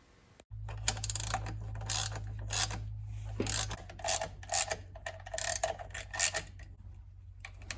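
A ratchet clicks in quick bursts while tightening a bolt on the 5-speed transmission dog bone mount of a Mk4 Volkswagen Golf TDI, with metallic clicks and pauses over a low hum that drops away partway through.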